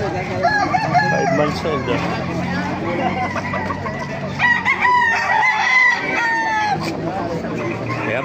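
Roosters crow repeatedly across a busy poultry gathering in Baliwag, several fighting-cock breeds among them, overlapping calls and clucks rising over constant crowd babble while someone talks nearby.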